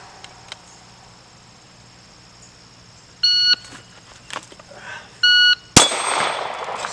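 A shot timer set to a two-second par gives two sharp electronic beeps a couple of seconds apart during pistol draw practice, followed by a loud close gunshot with lingering noise, amid quiet outdoor crickets.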